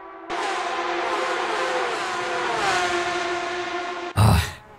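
A Porsche engine mod in the racing game Assetto Corsa drones loudly and steadily for about four seconds with a buzzing, layered tone, then ends in a brief, harsh burst of noise.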